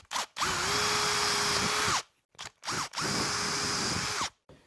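A power drill bores holes for guitar controls, its motor whining loud and close in two long runs with short spin-ups between, each ending in a quick wind-down and a pause.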